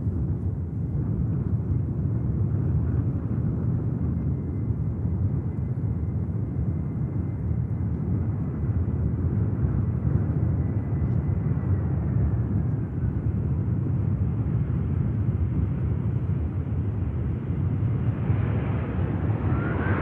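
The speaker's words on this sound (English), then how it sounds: "Next to touchdown, aircraft in from Vienna, as it usually is on this route in and with this aircraft" A Ryanair subsidiary airliner arriving from Vienna lands at Manchester Airport, heard as a steady, loud, low jet roar that holds throughout without a break.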